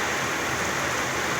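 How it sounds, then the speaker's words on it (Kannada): Heavy first rain of the year pours down in gusty wind, a loud, steady dense hiss of drops on surfaces, close and continuous with no voices. "ಆ ಥರ ಮಳೆ ಬರ್ತಾಯಿದೆ ನೋಡಿ"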